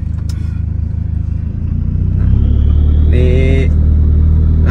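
A race car's engine and exhaust while driving, a loud steady rumbling drone heard from inside as a passenger, rising in level and pitch about halfway through with a brief whining rev near the end.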